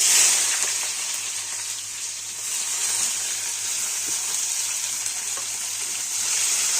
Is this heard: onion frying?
yes